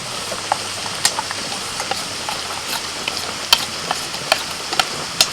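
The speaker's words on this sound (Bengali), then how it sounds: "হালকা আঁচে আস্তে আস্তে এই ফোড়নটাকে ভেজে নিতে হবে" Whole dried chillies, black mustard seeds, cumin, asafoetida and crushed garlic sizzle in hot oil over low heat, a soft steady crackle broken by sharp scattered pops and spits at close range, with no voices.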